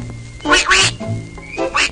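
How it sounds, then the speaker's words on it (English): Cartoon duck quacking in a Yogi Bear and Three Stooges animated feature, a few loud nasal quack bursts in quick succession with short gaps, close and clear with no talk over them. "Wanna buy a duck?"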